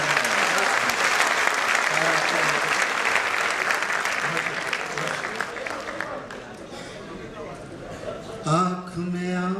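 An audience at a literary gathering breaks into sustained, loud applause that gradually thins out, followed by a voice speaking near the end.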